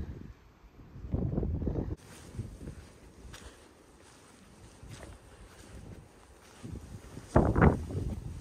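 Wind gusting across an exposed mountain summit in the Smokies on the Appalachian Trail, buffeting the microphone in loud rumbling bursts that rise and fall, with a strong gust near the end.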